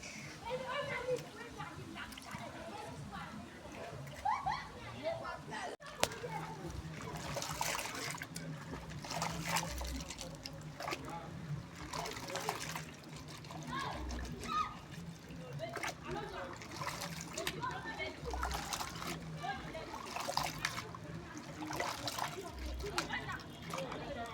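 Locust bean seeds being washed by hand in water, with steady splashing, trickling and sloshing throughout and a faint voice in the background.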